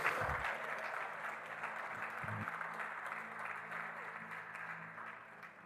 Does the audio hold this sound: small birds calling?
no